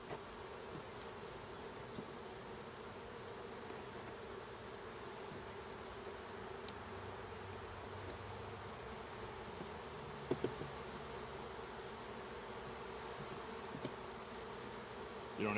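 Honey bees hum steadily around hive frames during a post-camp inspection, a continuous low buzz with a few faint clicks and taps of handling, and no talking.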